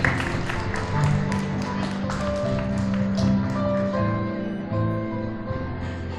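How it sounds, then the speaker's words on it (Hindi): Guests at a church wedding clap in a brief, fairly loud round of applause that thins out after a few seconds, with sustained tonal music or voices humming underneath. "ताली बजाएंगे।"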